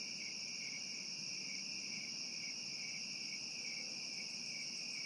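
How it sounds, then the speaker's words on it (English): Crickets chirp in a continuous, steady high-pitched trill, fairly faint, with no other sounds standing out. "recording the crickets"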